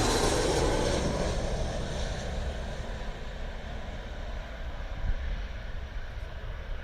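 A Jetstar airliner comes in to land at Gold Coast airport, its broad engine roar loudest at first and then holding as a steady, distant rumble throughout.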